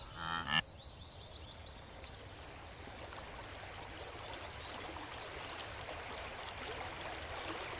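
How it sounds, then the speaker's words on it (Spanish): The wide, muddy Mara River rushes along in a steady, low, hissing flow heard from a distance. A short tonal burst sounds at the start, and faint bird calls are scattered over the water noise. "el agua corría y rodaba, la superficie del río era vasta pero fangosa"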